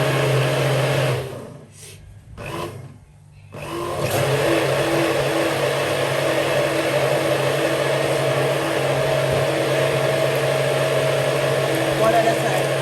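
A kitchen blender whirs while making porridge, with brief dips near the start before a loud, steady drone settles in and runs on without a break.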